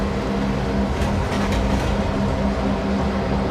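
A train rolls steadily through a Trainz 2022 simulator scene on a Midwestern line, an RR Mods model giving a continuous low rumble with a hum underneath and a few brief clanks, without pause for the whole stretch.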